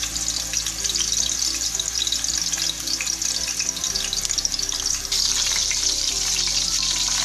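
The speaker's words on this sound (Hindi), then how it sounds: "अब इसकी एक साइड मुकम्मल फ्राई होने देंगे" Peshawari beef chapli kabab frying in a pan of oil, a loud, dense and steady sizzle that stays close and unbroken for the whole stretch, with no talking over it.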